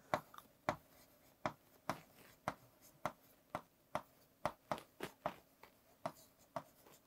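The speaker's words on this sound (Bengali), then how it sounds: "আমি লিখে দিচ্ছি," A pen scratches out an email address by hand, a string of quiet, evenly spaced strokes and taps close by, with no talking over them.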